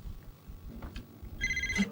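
A telephone gives a short electronic ring near the end, loud and close, after some faint rustling and background noise.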